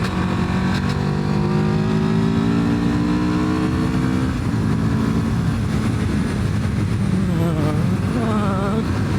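A 2025 Moto Morini Calibro motorcycle accelerates hard in third gear on an open road, its engine note climbing steadily in pitch and then shifting, loud and close over constant wind rush.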